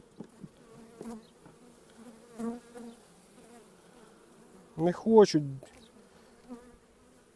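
A soft, steady hum of honeybees in an opened hive drones under the clip, with a brief louder burst of buzzing in the middle and a few short spoken words.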